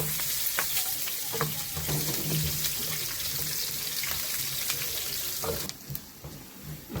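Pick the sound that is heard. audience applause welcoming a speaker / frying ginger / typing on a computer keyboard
frying ginger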